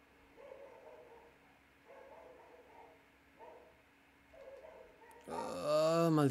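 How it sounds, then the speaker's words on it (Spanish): Dogs in The Legend of Zelda: Twilight Princess bark in four spaced, moderate bursts, followed by a louder, harsher outburst at the end. "Malditos perros. Deja de ladrar,"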